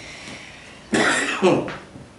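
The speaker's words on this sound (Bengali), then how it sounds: "আপনি কি কাশি হয়েছে, ঠান্ডা লাগছে?" A single close, harsh cough bursts out twice in quick succession, with quiet room noise around it.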